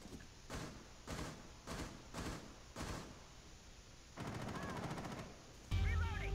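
A run of sharp, evenly spaced gunshots in Rainbow Six Siege on the Coastline map, followed by a rapid automatic burst and a louder final blast, close but fairly quiet overall.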